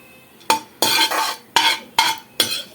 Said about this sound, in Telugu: ఇవి వేగిపోయినాయండి, తీసేసుకుందాము మొత్తం చక్కగా